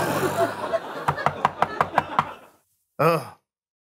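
Seven sharp knocks on a door in a quick, even rhythm, fairly close and clear, after a stretch of low murmuring, then a short voiced sound after a pause.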